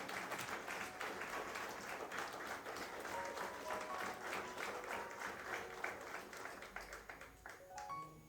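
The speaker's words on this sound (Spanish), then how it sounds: "Dale ese aplauso al Rey." A church congregation applauds during a Spanish-language sermon, sustained clapping from many hands at a moderate, slightly distant level, holding steady throughout before tapering near the end.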